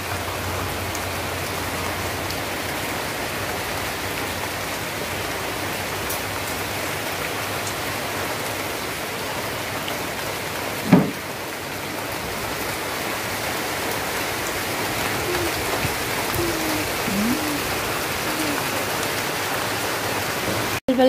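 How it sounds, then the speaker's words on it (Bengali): Heavy morning rain pouring steadily, a dense continuous hiss of drops on surfaces with one brief knock partway through. "আর সকালবেলা উঠলে যখন প্রচুর বৃষ্টি পড়ছে,"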